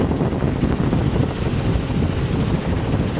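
A helicopter flying overhead at an outdoor site, a loud, continuous low rotor and engine drone with rough buffeting, steady throughout with no voices.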